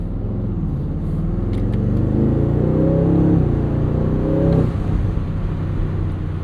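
A 670hp V8 Aston Martin Vantage S roadster accelerates hard, its deep engine note climbing through the revs, dipping at a gear change around four and a half seconds and pulling again, loud and close.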